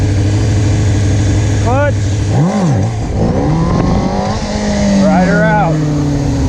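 A motorcycle engine revving hard through repeated rising and falling throttle bursts during a wheelie, loud and close, while someone talks over it.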